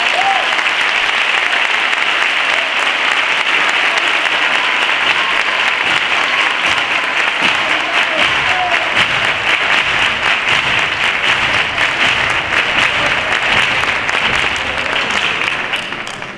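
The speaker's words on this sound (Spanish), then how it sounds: "un fuerte aplauso para él" An audience at a 2018 Christmas concert gives sustained, dense applause from many hands, steady throughout before tapering at the end.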